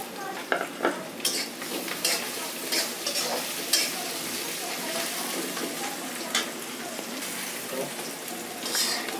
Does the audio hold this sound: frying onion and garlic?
yes